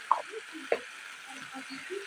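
Spices frying in a pan for a Bengali taro (kochu) dish seasoned with salt and turmeric, a soft sizzle punctuated by a couple of sharp stirring clicks, with a voice speaking over it.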